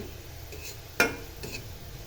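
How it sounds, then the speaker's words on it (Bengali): Onions frying for beresta are stirred in a pan, a soft sizzle with one sharp clink of the spoon against the metal near the middle, then quieter scraping. "বেরেস্তা করার সময় কিন্তু আপনারা সব সময় এভাবে পেঁয়াজগুলোকে নাড়তে থাকবেন, না হলে কিন্তু পুড়ে যাবে।"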